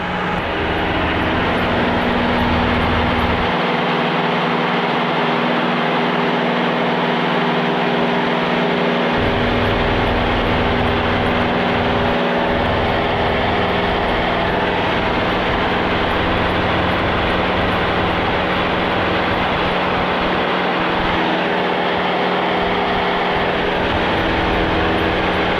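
A light single-engine propeller plane runs at full takeoff power, about 2,300 RPM, holding a loud, constant engine and propeller drone with small variations throughout and no talk.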